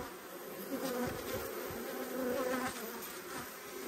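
Honey bees buzz steadily and close around a beekeeper working a hive with honey and brood frames, a dense continuous insect drone with no talk.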